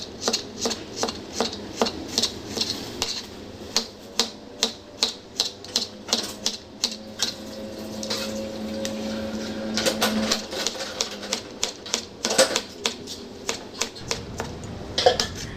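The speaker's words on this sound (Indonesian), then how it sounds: "Selanjutnya manisanya akan kita potong kecil-kecil berbentuk korek api." A knife chops chayote into small matchstick strips on a board, giving a rapid, regular run of crisp taps that later slows and softens into scattered, quieter cuts.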